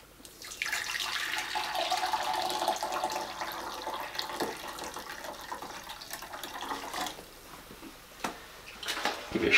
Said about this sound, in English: and then we'll add some warm water.